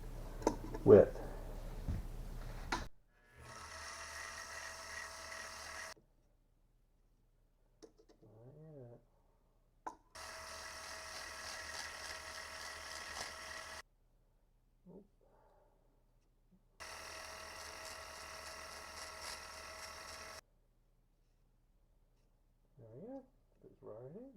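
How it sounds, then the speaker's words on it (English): A powered sander widens the hole of a ring made from used bourbon whiskey barrel wood. It gives a steady motor whir in three bursts of a few seconds each, separated by quiet pauses with small handling noises. "I'm going to go ahead and sand this hole till we can open up to get the right width."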